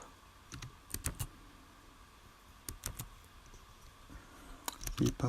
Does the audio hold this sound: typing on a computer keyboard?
yes